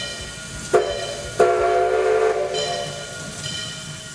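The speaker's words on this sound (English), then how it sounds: "your first encounter will probably be with the authentic Western steam locomotive that chugs around the venue" Authentic Western steam locomotive running around a Canadian venue, sounding a loud steam whistle in two sharp blasts over a steady hissing, chugging rumble, with no talk.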